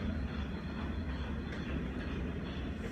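Trains rolling through a coal port in Newcastle, Australia, with a steady, dense rumble of rail wagons that stays loud and continuous from start to end, without any voices.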